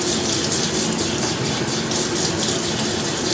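Water running steadily from a tap while a shaving bowl is emptied and refilled, a continuous close splashing gush with no pauses.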